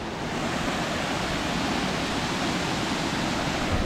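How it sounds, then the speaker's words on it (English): A waterfall on a Lake District bikepacking trail roars as a steady, dense broadband rush, loud and unbroken throughout with no voices. "Cool waterfall though."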